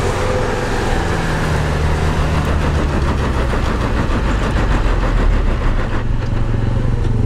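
A Lada Niva 2131 crawling off-road in low range on mud tyres, its engine giving a loud, constant, close drone under strain with a rough rumbling texture throughout.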